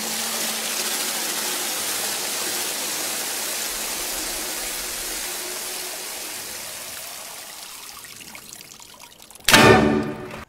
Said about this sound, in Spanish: un concierto con el agua como uno de los instrumentos principales